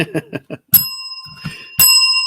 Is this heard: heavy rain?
no